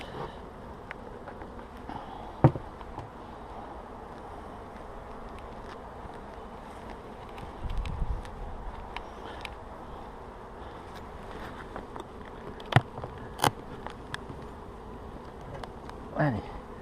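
Honeybees at a hive during a spring inspection, a continuous low buzzing throughout with scattered faint knocks and clicks from handling the hive.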